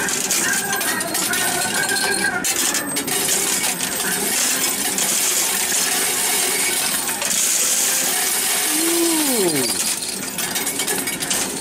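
Chips and cards spilling in a Wizard of Oz coin pusher arcade machine: a constant metallic jingle and clatter of tokens over arcade hum, with electronic chirps and descending game tones near the end, no voices.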